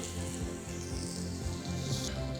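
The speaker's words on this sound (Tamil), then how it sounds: "இப்போ எல்லாத்தையும் உள்ளே சேர்த்து ரெண்டு பக்கமும் ஒரு மூணு மூணு நிமிஷம் ஃப்ரை பண்ணி எடுத்துடலாம்" Masala-coated eggplant pieces frying in oil on a dosa pan, giving a steady, close sizzle with soft crackle and patter running evenly throughout.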